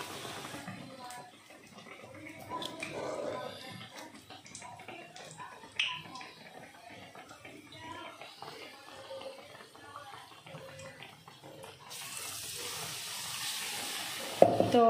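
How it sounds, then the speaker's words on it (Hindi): Bread pakoras coated in gram-flour batter deep-frying in hot oil over a high gas flame, giving a continuous crackling sizzle throughout that grows louder and brighter near the end, with faint voices in the background. "तो यहाँ पे तले जा रहे हैं गर्मा गर्म ब्रेड के पकोड़े।"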